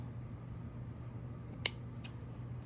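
Scissors cutting fabric for a crochet apple bag lining, two short faint snips a fraction of a second apart over a steady low room hum, with no talking.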